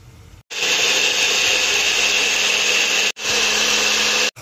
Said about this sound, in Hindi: दोनों को मिक्सी में पीसेंगे।